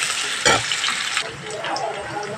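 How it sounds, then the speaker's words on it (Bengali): Onion, green chili and bay leaves frying in hot oil in a pan for a Bengali katla fish curry, a steady close sizzle with a brief louder crackle burst as something is stirred in. "2টো তেজপাতা দিয়ে দিলাম, দিয়ে পেঁয়াজটা ভালো করে একটু ভেজে নিতে হবে ব্রাউন কালার করে"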